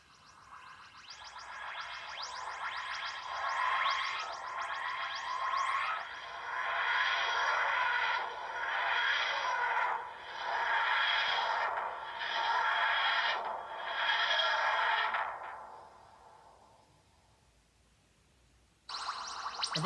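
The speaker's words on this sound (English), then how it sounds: "which is what it sounds like even from the outside when the TARDIS is landing" The TARDIS landing effect from Doctor Who: a grinding, wheezing whoosh that pulses in repeated rising and falling swells, moderately loud, then fades away before a short new burst of sound at the end.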